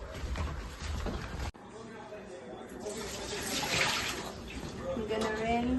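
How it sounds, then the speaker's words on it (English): Water is poured out of a foot care basin into a sink, a splashing, rushing pour that swells and then tails off, fairly close and moderate in level. "And then I'm gonna dump the water."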